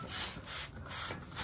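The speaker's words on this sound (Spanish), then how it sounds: "Yo creo que hay que ir lijando ese tanque ya, loco." Sandpaper rubbing a motorcycle fuel tank in a workshop, with steady back-and-forth strokes in about three long passes, close and moderately loud.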